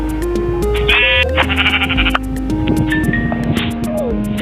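Sheep or goat bleating inside a Minecraft survival game, several wavering bleats close up and loud over a steady game background hum, with no speech.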